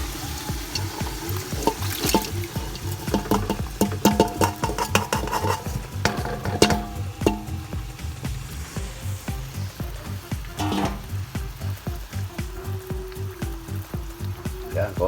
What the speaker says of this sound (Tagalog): Saka natin sasangkutahin yung isang palangga ng paa